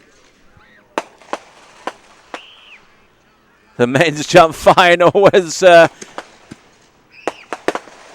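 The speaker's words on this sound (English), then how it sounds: "fireworks get set off for the event" Fireworks set off at a night jump final of a men's championship sports event, a series of sharp loud bangs and crackling bursts, sparse pops first then a dense flurry, while an announcer talks over them.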